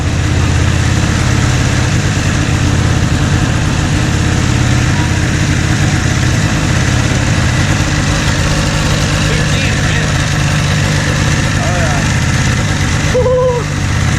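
An old Ski-Doo snowmobile, running again after sitting more than five years, idles in a garage with a loud, steady, unbroken engine drone throughout.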